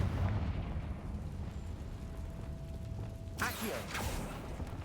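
Confringo blasting spell cast in the video game Hogwarts Legacy: a low rumbling game ambience with a tonal hum, then a sudden loud blast with a crackling burst that trails off, no talking.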